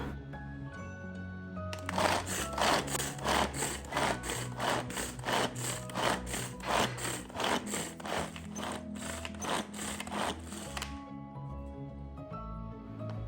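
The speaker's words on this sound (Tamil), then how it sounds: "இப்போ இதை வந்து நல்லா ஃபைனாக வந்து நம்ம சாப் பண்ணிக்கலாம்" A manual pull-cord food chopper finely chopping onions, green chillies and coriander, giving a close, steady run of rapid whirring, rattling strokes for about nine seconds, with quieter background sound before and after.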